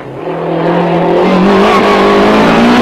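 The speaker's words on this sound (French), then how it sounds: "Sylvain Polo, candidat au titre 94, fait ses premiers tours de roue au volant d'une Ford Groupa" A Ford Group A rally car at a 1994 alpine rally near Grasse, its engine roaring loudly and close as it accelerates hard, the pitch climbing steadily through the gear with no other sounds over it.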